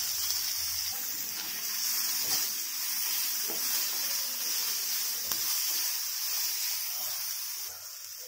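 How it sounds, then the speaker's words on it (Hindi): Chopped onion frying with cumin and bay leaves in a hot pan gives a steady, bright hiss and sizzle that holds evenly close up, easing slightly at the very end. "अभी ऐड कर देंगे ओनियन, इसको भी बहुत अच्छे से फ्राई कर लेना पड़ेगा"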